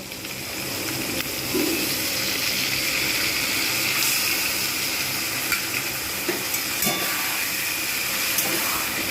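Water splashed onto frying spices for a Bengali bhetki fish-bone chorchori, giving a continuous broad hiss and sizzle in the pan with a few faint clinks, steady and close throughout.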